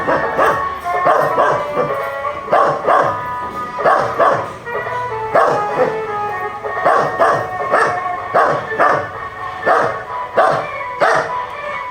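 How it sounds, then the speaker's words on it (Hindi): A dog barks over and over, loud and close, in short repeated bursts with brief pauses between them. "अब ये भौंकता रहेगा, जो गाड़ी की आवाज आती है ये भौंकता रहेगा।"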